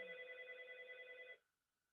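A telephone rings with a steady electronic bell tone during a special board meeting of a community services district, one short ring burst that stops abruptly, fairly faint in the room.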